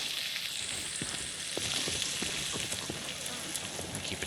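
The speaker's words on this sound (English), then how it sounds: "It's a permanently sizzling pot." Steady sizzling of a cooking pot over a fire in the video game Prologue: Go Wayward, a continuous crackling hiss with scattered pops, fairly close and unbroken throughout.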